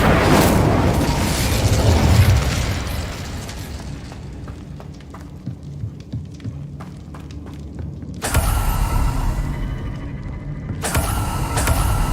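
A burst of fiery spell sound from the Incendio fire spell in Hogwarts Legacy, loud and dense at the start, easing to crackling quieter debris, then two more loud rushing fire blasts near the end.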